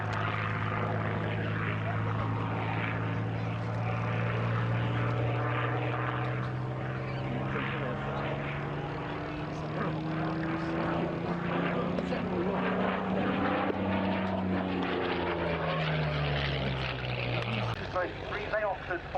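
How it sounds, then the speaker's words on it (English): A Fieseler Storch propeller airplane takes off, its engine droning steadily and rising in pitch as it climbs away, loud and continuous, with a voice speaking over it. "the Storch has taken cover on the ground and rolled for takeoff again"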